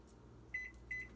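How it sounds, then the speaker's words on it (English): A home kitchen microwave oven runs with a low steady hum, and two short high beeps sound in quick succession. "I'm just going to put this in my microwave for 3 to 4 minutes"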